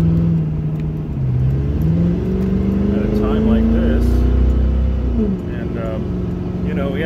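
A car drives along with a steady engine drone and gear whine rising and falling in pitch, loud and close from inside, with a brief lull near the end.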